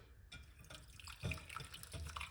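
Clove and rosemary liquid pouring and splashing with a soft, trickling wash, brief louder gushes mid-clip, close by, no talking.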